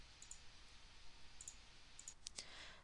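A computer mouse clicks faintly up close during work on a computer, giving a handful of short, light ticks, some single and some in quick pairs, over quiet room noise.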